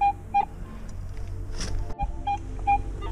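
Short, high electronic beeps repeat in quick pairs and singles over a quiet outdoor background, like a detector signalling a find.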